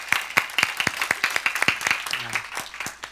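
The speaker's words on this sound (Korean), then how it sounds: "우리 박수 한번 쳐도 좋겠다 생각이 듭니다" Clapping from a church congregation at a young adults' service, a sparse mix of separate sharp claps rather than a dense roar, fairly close and moderately loud, with a brief low tone partway through.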